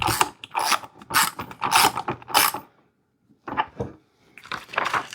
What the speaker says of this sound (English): same 17 millimeter, tighten that down